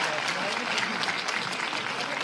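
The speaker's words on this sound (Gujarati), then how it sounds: "જોરદાર તાળીઓથી એમને વધાવીએ।" An audience at a school cultural event in Ahmedabad claps for a visiting minister in a brief burst of dense, even applause, close and moderately loud, with a voice over it.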